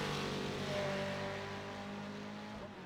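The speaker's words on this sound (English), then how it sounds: "Listen to the sound of that Ford as it goes by the camera there." A Ford GT3 race car rips past at Brands Hatch during a GT3 Pro-Am championship race, its loud engine note holding steady with a rising-then-falling pitch as it goes by close and fades slightly away.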